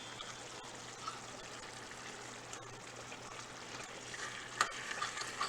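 Tomato sauce is stirred into vermicelli in a pot, a soft continuous wet sizzle and scraping under quiet kitchen background, with a few sharper clinks near the end.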